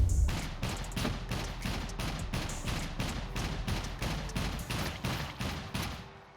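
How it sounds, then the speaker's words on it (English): Rapid, steady shots ring out in the survival video game SCUM, about a dozen evenly spaced cracks over several seconds, loud and close with no speech, tailing off at the end. "He shot me twice."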